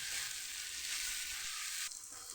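Onions sauté in a pan with a soft, continuous sizzling hiss that stays quiet and even throughout, with no voices.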